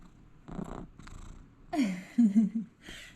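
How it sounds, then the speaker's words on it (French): A cat purring close by in a few soft, rumbling bursts, with brief quiet gaps between them. "T'entends ronronner?"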